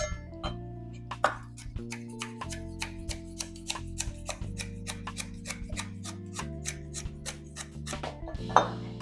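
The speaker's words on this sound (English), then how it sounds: "I want to kind of dice these fine" Steady knife chopping on a cutting board, quick regular taps continuing throughout, close and fairly clear over a low background hum.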